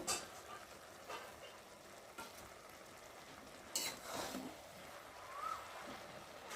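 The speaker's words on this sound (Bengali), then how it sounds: "এখন এবার চিংড়ি মাছগুলো ঢেলে দেব" Prawns tipped into a hot pan of cabbage and stirred, a quiet steady sizzle with scraping clatters of the spatula at intervals.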